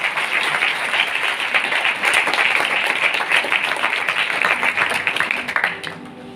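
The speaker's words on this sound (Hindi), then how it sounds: "जोरदार तालियां अपने खुदा को।" A church congregation at a Sunday sermon clapping loudly and continuously, a dense steady wall of applause from many hands that carries on for several seconds before easing off at the end.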